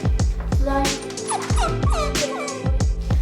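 Rocco the puppy whimpers and yips in a run of short, high whines, close by, over a steady low hum with rhythmic thumps beneath.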